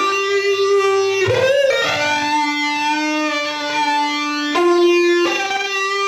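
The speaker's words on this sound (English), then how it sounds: "I remember playing it on the neck pickup of my Strat, which has a P90 in it, and I put a bit crusher on it" Harshly distorted electric guitar played on a Strat's neck P90 pickup through a bit crusher, gritty buzzing notes sustained loudly with a few pitch changes and abrupt jumps, no voices.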